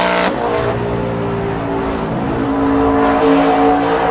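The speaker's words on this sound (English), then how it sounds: "Mike Bliss in his 32 car." NASCAR Sprint Cup race cars lapping Chicagoland Speedway in 2010 make a loud, continuous engine roar with steady droning tones, close and unbroken throughout, with no voices.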